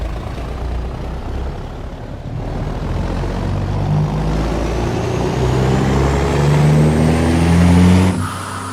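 Kenworth truck in American Truck Simulator pulling away in high gear, its engine droning loud and climbing in pitch through the gear, rising steadily before cutting off abruptly near the end.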